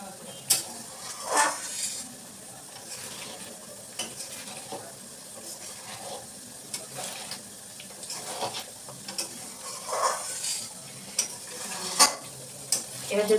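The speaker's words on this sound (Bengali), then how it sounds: "এবার যেহেতু বেশি ফুটে যাচ্ছে, একটু গ্যাসটা আস্তে করে দেবো" Cream (malai) simmering in a pan as desi ghee is made at home, a soft continuous bubbling and sizzling with occasional stirring scrapes, close and fairly quiet.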